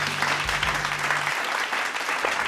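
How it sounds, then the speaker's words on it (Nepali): Live audience applause for singers and band members at a Nepal Idol Season 3 televised performance show, a steady close wash of clapping, with a low sustained instrument tone fading out partway through. "जोरदार ताली दिनुहोस् देवाशिष र सुन्दरको लागि"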